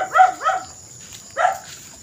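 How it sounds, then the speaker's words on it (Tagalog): A dog barks three times nearby, two quick barks followed by a pause and a single louder one, against a quiet background. "Ayan ang aso mga bakyard o."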